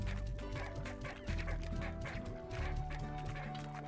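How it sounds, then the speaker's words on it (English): Chickens clucking in the video game Slime Rancher, a busy run of bird calls layered over steady background game music. "See if they like that chicken."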